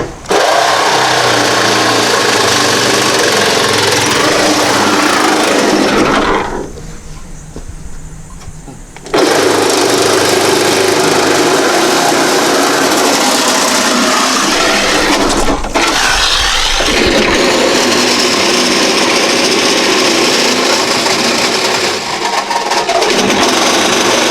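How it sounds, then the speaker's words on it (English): A Sawzall reciprocating saw cuts through sheet metal on a Chevy G20 van, giving a loud, harsh, continuous buzzing rasp that pauses for a few seconds partway through and then runs on steadily to the end. "Time for the Sawzall."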